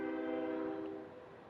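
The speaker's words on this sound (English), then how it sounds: "the local freight making its way to where it needs to be" A local freight train sounds its horn in a sustained, steady multi-tone blast that gradually fades as it moves off, heard alone without talk.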